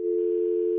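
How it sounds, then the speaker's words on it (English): A telephone dial tone hums as a number is about to be dialed, one steady, unbroken electronic tone, clear and close, with nothing else over it. "Let me try to dial up the phone number on the billboard."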